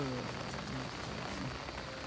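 Steady rain falls on an outdoor surface at the 22 Dhara stone water spouts in Kathmandu, a continuous dense patter close by with no voices over it.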